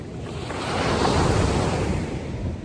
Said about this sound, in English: It's a little overcast, it's drizzling a little, very big waves.